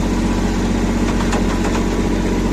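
A tractor engine runs at a steady, rough mid-pitched drone, close and loud, while its tires spin in large dry clods of a late-ploughed field as it tries to pull a rotavator.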